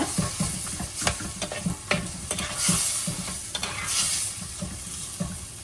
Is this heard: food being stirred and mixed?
yes